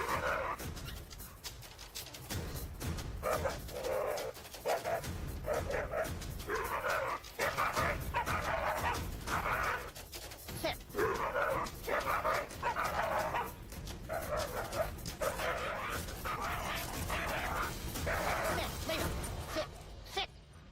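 A dog named Stella barks repeatedly in a rapid, insistent series, loud and close, with yips and whimpers mixed in and the barks coming in uneven bursts across the whole stretch.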